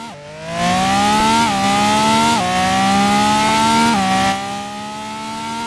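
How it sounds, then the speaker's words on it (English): A car engine in the game Wayfort fires up and revs hard, climbing through several gear shifts with a loud, buzzy, steady note. "For an obvious reason, that startup. And then the engine"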